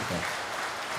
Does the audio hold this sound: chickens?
no